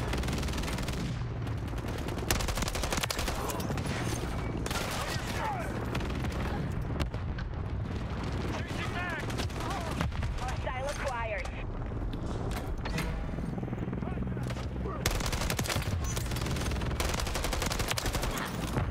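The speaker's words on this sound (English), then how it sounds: "Oh, there's a fucking shotgun." Gunfire in a Call of Duty MW3 match, including a shotgun, with frequent loud shots and blasts over a busy din of game noise across the whole stretch, with some talking mixed in.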